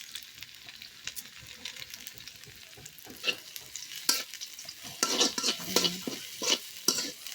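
Spices such as bay leaves and cardamom fry in a pot over a clay stove, crackling and sputtering while a spoon scrapes and stirs in irregular strokes, growing louder and busier toward the end.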